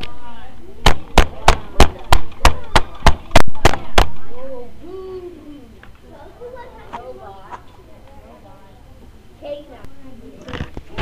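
A school reading-response journal slapped flat on a table about ten times in quick rhythm, sharp loud close cracks, followed by someone talking and another smack at the end.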